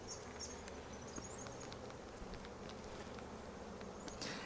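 Honey bees hum in a steady, low drone while a hive is opened for brood inspection, a close continuous buzz with scattered brief insect whines flitting past.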